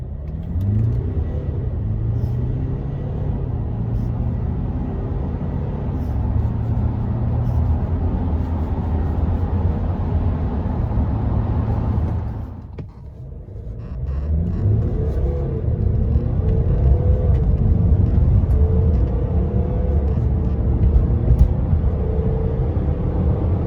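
A 2018 Mercedes-Benz GLC 220d diesel SUV with a nine-speed automatic accelerating hard from a standstill onto a motorway, heard from inside as a steady engine drone and road rumble that dips briefly at a gearshift, then climbs again.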